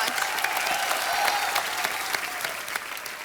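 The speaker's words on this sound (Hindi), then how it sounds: "जोरदार तालियां एक बार।" A studio audience on a TV comedy talk show breaks into loud, dense applause with a little crowd noise, sustained evenly for a few seconds.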